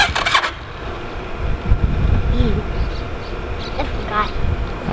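A Raptor 250 motorcycle engine cranks and turns over up close, its low rumbling running unevenly throughout, with people talking and short sharp noises over it.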